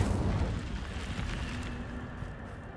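The Incendio fire spell bursts out in Hogwarts Legacy with a heavy, rumbling whoosh of flame that starts strong and roars on steadily. It stays loud and close and fades only slightly toward the end.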